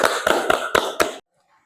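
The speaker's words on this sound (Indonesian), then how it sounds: "Tepuk tangan untuk kita semua." A classroom group claps together five times in an even, quick rhythm, loud and close, then stops abruptly into near silence.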